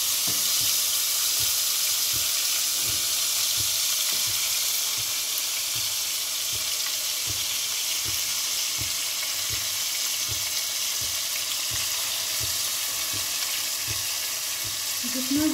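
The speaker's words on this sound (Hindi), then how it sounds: "पहले हम इसको भून लेंगे ताकि भून के इसकी जो गोश्त की जो हीक होती है वो ख़त्म हो जाए।" Chicken pieces fry in hot oil for a Hindi/Urdu-style green masala curry, with a steady broad sizzle and a regular rhythm of stirring scrapes throughout, loud and close with no talk.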